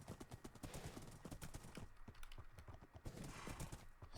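Horse hooves clop in a steady, quick rhythm while riding in a video game, repeated footfalls fairly close and even in loudness with no talk over them.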